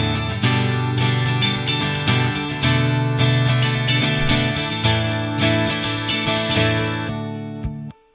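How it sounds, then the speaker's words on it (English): Layered electric guitar track from a cover of a song, processed with echo and effects, playing steady strummed chords with ringing repeats, loud and continuous for about seven seconds before cutting off. "the guitar track, the original guitar track,"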